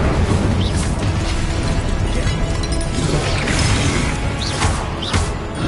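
The Incendio fire spell in the video game Hogwarts Legacy, heard as a loud, sustained roaring burst of flame with crackling, crashing combat noise throughout.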